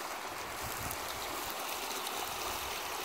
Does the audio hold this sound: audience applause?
no